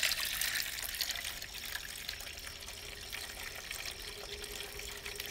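Continuous rushing, splashing water fills the whole stretch, steady and close, with a bright hiss and no voices.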